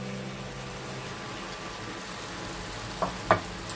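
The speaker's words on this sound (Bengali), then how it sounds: "এই জন্য ভালো করে আমি মাশরুম দিয়ে একটু কষিয়ে নিচ্ছি" Mushrooms sauté in a spiced masala in a pan, a steady moderate frying sizzle, with a couple of sharp utensil clinks near the end.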